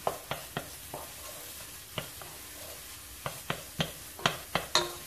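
Minced garlic stirred in a sizzling soup pot for a red lentil soup, with a steady low sizzle under a string of sharp spoon knocks and scrapes against the pot, irregular and close.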